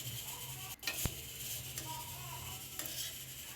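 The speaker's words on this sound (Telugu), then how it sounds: "అదే కడాయిలోకి సేమియా కూడా వేసేసుకొని ఫ్రై చేస్తూ ఉన్నాను." Vermicelli fries gently in ghee in a kadai, a soft continuous sizzle with an occasional sharp clink of a spoon against the pan, faint and close.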